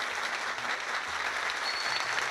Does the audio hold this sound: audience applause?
yes